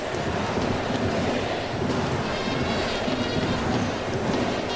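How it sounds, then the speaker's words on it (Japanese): A packed Koshien Stadium baseball crowd, one out from victory, roars as a loud, dense, unbroken wall of noise that stays level throughout, with no distinct individual voices. "あと1人コールが起きている甲子園"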